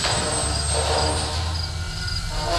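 A helicopter engine in the video game Granny Chapter 2 gives a loud, continuous broadband roar with a low rumbling drone, steady across the short stretch and heard alone.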